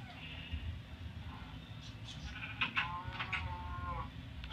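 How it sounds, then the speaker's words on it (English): Sheep in Minecraft bleating a few times in quick succession, soft wavering calls over steady game background noise. "I'm gonna go shear the sheep."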